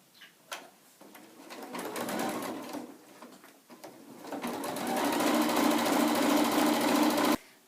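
A sewing machine runs in steady whirring bursts while stitching the edges of a tote bag, starting and stopping a few times before a longer continuous run, loud and close with no speech.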